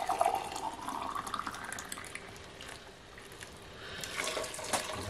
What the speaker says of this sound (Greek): Θα προσθέσουμε 2 ποτήρια καυτό νερό.